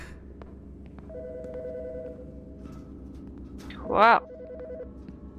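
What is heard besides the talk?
telephone ringing in the video game Autopsy Simulator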